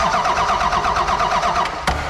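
Cummins diesel in a 1979 Ford truck cranking steadily, the starter churning rhythmically and loud up close for about two seconds before cutting off with a sharp click.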